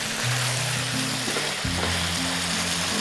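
Garlic sizzling in a hot pan as it fries, a steady crackling hiss with faint low tones underneath and no talking.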